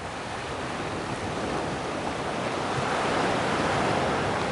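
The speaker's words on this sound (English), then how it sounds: "There are really big waves here." Big ocean waves crash and roar continuously on an isolated beach in Goa. The surf makes a dense, loud, unbroken wash with wind noise mixed in and no voices.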